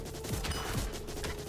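Dense enemy gunfire in the video game Bloody Hell, a continuous rattling barrage with several heavier low thumps, loud and steady throughout with no voices.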